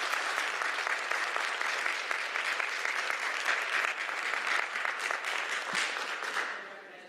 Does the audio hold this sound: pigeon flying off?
no